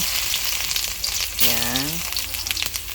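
Ginger hits a hot wok and fries with a loud, dense crackling sizzle close by, while a short voice-like tone rises briefly midway.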